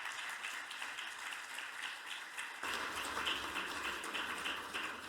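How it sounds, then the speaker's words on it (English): An audience at an EU policy conference on the Sustainable Development Goals breaks into applause, a steady wash of many hands clapping that swells louder midway and carries on evenly to the end. "please give them a round of applause"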